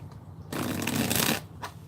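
A deck of tarot cards being shuffled, a dense rustling riffle that lasts close to a second, closely miked and fairly loud, with quieter card handling on either side and no speech.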